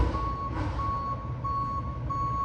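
A garbage truck reverses nearby with a steady repeating high-pitched backup beep over a low rumbling diesel idle, a brief hiss of air brakes near the start, moderately loud outdoors.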